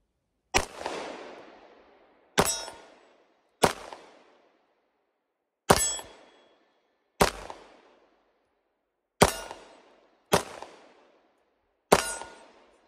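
Eight 9mm pistol shots from WWII-era military surplus handguns such as the Luger, Radom, Walther and Lahti ring off a steel target at an outdoor range, each a sharp loud crack with a decaying metallic ring, spaced irregularly one to two seconds apart.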